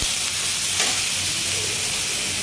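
Onion paste sizzles in hot oil in a pan for biryani, a loud, dense, continuous hiss with a faint knock partway through and no voices.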